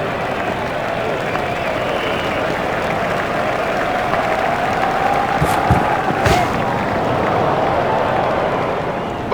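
A large cricket stadium crowd at an India versus England semifinal applauds a batsman's century, a broad, continuous roar of clapping and cheering heard from a distance, steady and unbroken for several seconds.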